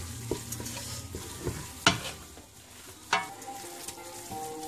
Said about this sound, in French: Mélangez bien hein, pour que les amandes grillées puissent avoir une bonne consistance.